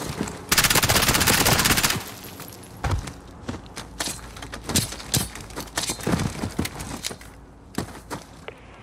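Gunfire in Call of Duty Modern Warfare 2019, opening with a dense sustained burst of automatic fire, then scattered loud shots, clatter and footsteps up close, with no speech.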